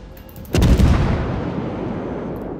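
Warship guns in World of Warships, a Leander cruiser in play, fire in one heavy, booming salvo that lands sharply and then rolls away in a long, rumbling decay.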